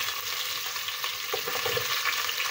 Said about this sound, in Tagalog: pag ako po nagsusutay, inuuna ko po yung sibuyas